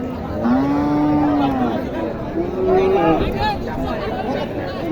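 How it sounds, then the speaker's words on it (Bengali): Cattle low in drawn-out, deep moos at a livestock market before the Qurbani festival, one long call followed by shorter ones nearby, with crowd chatter underneath. "এখানে মাংসের অনেক গরু আছে"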